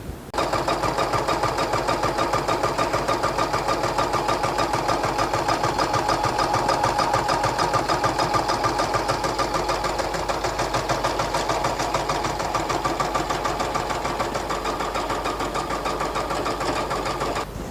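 A Bobjet domestic embroidery machine stitches with a rapid, steady mechanical clatter. The needle pulses close and continuously throughout, and no one speaks.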